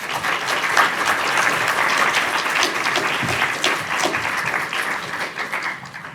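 Sustained audience applause fills a lecture hall as the speaker Arthur Snell is welcomed to give his talk, steady dense clapping holding at an even level throughout before tapering slightly at the end.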